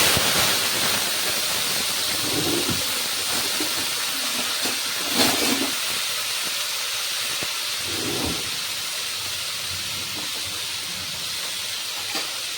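Grated tomato hitting a hot pan already holding cumin and asafoetida gives a steady, fairly loud hiss and sizzle that runs throughout, with a few brief clatters and bumps from utensils.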